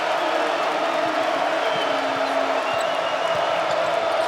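A basketball arena crowd rises and cheers during a Gophers men's game against Purdue on senior night, a loud continuous roar of voices filling the space, with sneaker squeaks and bounces cutting through underneath.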